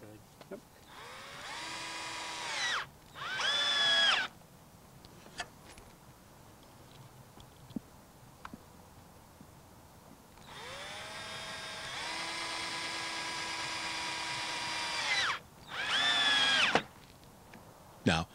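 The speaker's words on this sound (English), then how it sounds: "Drive the screws into the connector and the wood like this." Power screwdriver whirring in several bursts, two long runs among shorter ones, as 1 1/4 inch screws are driven through a connector into wood on a greenhouse base, fairly close, with quiet pauses between drives.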